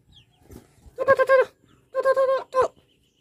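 Hen on a Philippine backyard farm clucking in three short bursts, fairly close, with faint rustling between calls and no talk.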